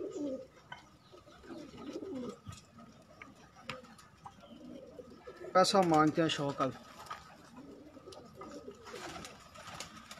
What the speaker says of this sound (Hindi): ये जोड़ों वाले कबूतर हैं